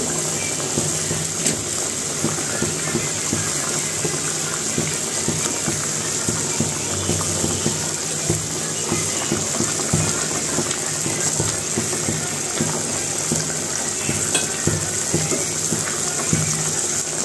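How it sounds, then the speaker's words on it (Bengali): Fried puti fish slipping into a pot of boiling curry broth on a home stove, with a steady watery bubbling and churning hiss filling the whole stretch, loud and close, with no voices. "ফুটে গেছে, এখন মাছগুলো দিয়ে দিব।"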